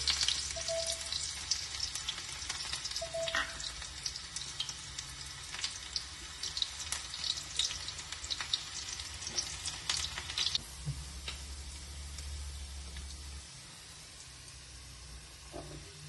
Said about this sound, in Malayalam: ഇതിലേക്കുള്ളൊരു വറവിന് ഉള്ളി മുറിച്ച് വെച്ചതാ ചേർത്തി കൊടുത്തു.